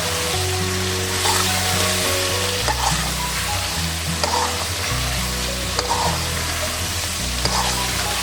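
Chicken karahi frying in generous oil with cumin powder, coriander powder and dried fenugreek, a loud, constant sizzle and crackle with stirring, over steady tonal background music and no talk.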